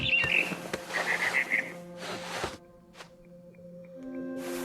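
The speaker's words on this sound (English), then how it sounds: "It was a barn swallow going back to her nest." A barn swallow in the video game What Remains of Edith Finch chirps in quick, bright twittering bursts during the first two seconds, with soft footstep-like rustles and a few faint ticks afterward; no talking.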